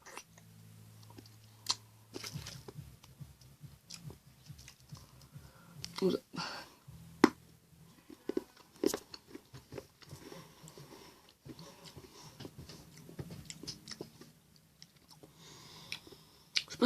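Cherry sour candy is bitten and crunched close to the mic, giving irregular small crunches and sharp clicks of chewing after a brief murmur of voice.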